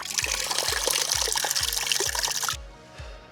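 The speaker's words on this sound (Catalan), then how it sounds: "Font, tu. Anem a provar l'aigua de Breda." Water pouring from a public fountain in Breda, a steady close splashing trickle with a faint rhythmic low thumping beneath, cutting off abruptly near the end.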